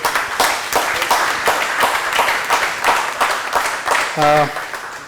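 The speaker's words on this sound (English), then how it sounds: "Big round of applause for it." Audience at an environment and climate conclave clapping in a hall, a moderate burst of applause with a speaking voice running over it throughout.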